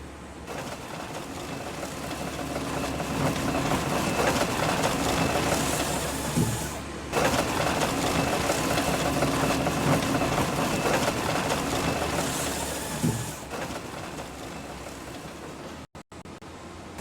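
A forestry machine in Farming Simulator 25 cuts a tree log with a steady, loud mechanical drone and whirring saw, with a brief dip near the middle and another near the end before it cuts off.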